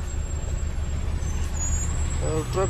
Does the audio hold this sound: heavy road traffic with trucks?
yes